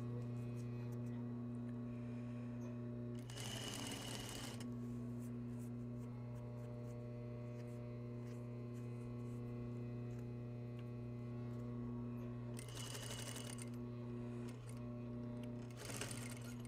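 A sewing machine stitches a seam in short bursts of rapid whirring, three separate runs over a constant low mains hum, close and clear with quiet pauses between.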